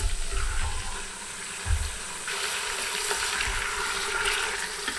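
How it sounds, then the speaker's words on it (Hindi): Mutton pieces frying in hot oil with ginger and garlic, a steady broadband sizzle with a few low thumps as the meat is stirred, close and continuous without speech. "गोश्त को फ्राई करेंगे 3-4 मिनट के लिए।"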